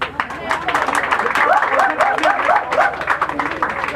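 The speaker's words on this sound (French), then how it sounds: "applaudissez pour moi" Applause from a crowd at an end-of-year district celebration, dense clapping with scattered cheers and chatter running steadily throughout, fairly loud and close.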